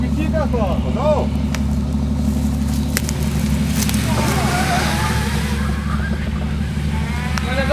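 An off-road vehicle grinds steadily through rough terrain, its engine a continuous low drone with crackling bursts, while people talk over it.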